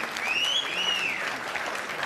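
A crowd at a sports event claps for a table of costumed superheroes, a steady, even wash of applause with a faint whistle-like tone rising and falling over it.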